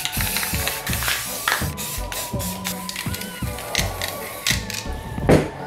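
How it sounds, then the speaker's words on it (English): Short bursts of spray paint hiss onto a cheap plastic Halloween mask being repainted to look realistic, repeated rhythmic sprays with can rattles and handling clicks between them, close and fairly loud. "this is gonna be so fun to spray paint and airbrush"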